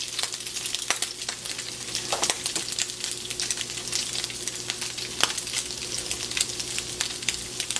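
Food searing in a hot pan with oil, a steady close sizzle and crackle with occasional sharp pops and light utensil clicks, no talking.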